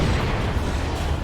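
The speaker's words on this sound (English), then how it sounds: "Las cannon's getting shots in." Las cannon fire in Dawn of War 2, a Warhammer 40k strategy battle, as a loud, sustained rumbling boom with heavy low-end weight that rolls on for over a second with no pause.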